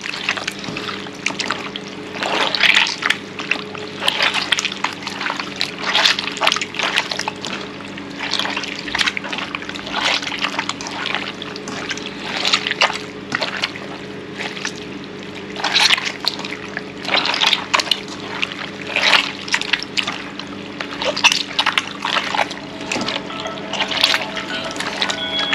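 Tap water runs and trickles while raw meat is washed by hand, a steady close pour with irregular splashes and drips throughout.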